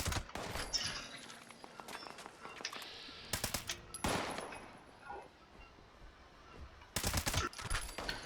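Automatic rifle fire in Fallout 76, the Fixer with a silencer, sounding in several sharp rapid bursts near 0.5, 3.3, 4.1 and 7 seconds, separated by quieter gaps of ambient game noise.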